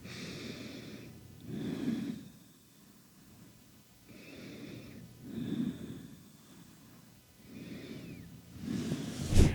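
Slow, deep breathing during a posture stretching routine: three soft, close breaths in and out at an even, unhurried pace, each a gentle rush of air, ending in a slightly louder exhale.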